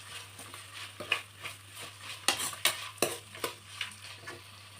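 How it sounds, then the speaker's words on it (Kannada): Masala for raw mango rice fries in a pan, a quiet sizzle punctuated by rhythmic scraping stirs of a spatula, strokes growing sharper midway. "ಹಸಿ ಸ್ಮೆಲ್ ಹೋಗೋ ತನಕ ಇದನ್ನು ಫ್ರೈ ಮಾಡ್ಕೊಳ್ಳೋಣ."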